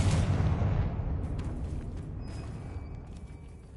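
A Bombarda spell blast in the wizarding game Hogwarts Legacy: a heavy, rumbling explosion that booms loudly at first and then slowly decays into a long fading tail.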